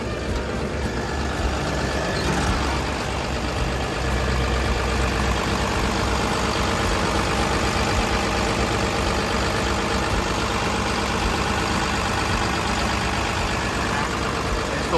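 A Komatsu WA380-8 wheel loader's engine idles steadily and loudly up close, a continuous deep rumble with a fine mechanical clatter that barely changes over fifteen seconds.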